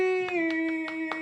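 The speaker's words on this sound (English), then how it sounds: "Clap for myself." A podcast co-host claps for herself on a live show: around five brisk, evenly spaced hand claps over a steady background music tone.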